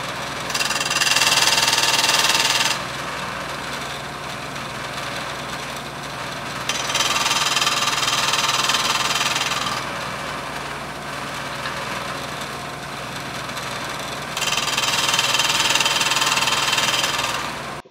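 Shopsmith sharpener grinding a diamond-shaped lathe parting tool, a continuous motor drone with a harsh grinding hiss that swells in three long passes against steady running noise.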